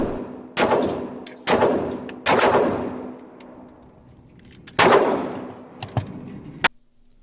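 A Steyr firearm fires single shots at an outdoor range, each a sharp, loud report with a long decaying tail. The shots are spaced irregularly and a few fainter cracks come near the end.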